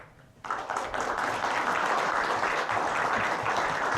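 Audience applause at an Oshawa all-candidates forum, a dense crowd of clapping that starts abruptly after a quiet moment and holds steady and loud throughout.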